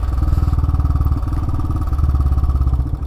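A single-cylinder 411cc Royal Enfield Himalayan 2018 motorcycle engine thumps in a loud, steady rapid pulse close by, with a rattly mechanical clatter over the beat and no voices.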